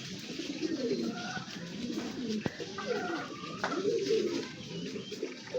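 Several racing pigeons coo steadily together nearby in a loft, with soft rustling and a brief click amid the murmuring calls.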